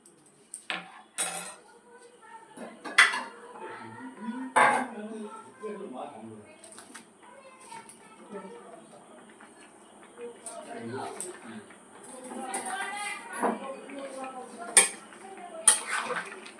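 Fried vegetables go into a pot of half-cooked rice and lentil khichuri, bringing scattered close clinks and scrapes of a spoon against the pan, intermittent and fairly soft.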